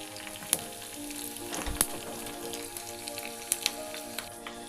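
White sesame seeds sizzle in hot oil for a dhokla tempering, a steady crackling fry broken by a few sharp pops, close and fairly quiet, with no talk.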